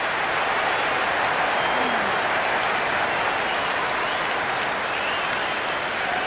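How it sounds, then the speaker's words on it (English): A large cricket stadium crowd at an India–Pakistan match cheers and applauds in a dense, loud, unbroken roar of clapping and voices. "It's evident and ever so audible that the crowd is at near bursting point at today's play."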